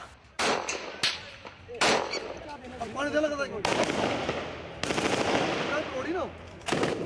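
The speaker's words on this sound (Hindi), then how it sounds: "हथियारों से दनादन निकलती गोलियां" Sharp bursts of rapid gunfire from army and police weapons crack out repeatedly during an encounter at a building in Poonch district, loud and close, with shouting voices and echoing reports between the volleys.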